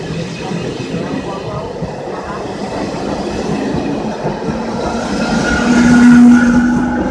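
A Slovak passenger train rumbles steadily past at close range at Kysak station, with rolling wheel noise and a rising hum building toward the end.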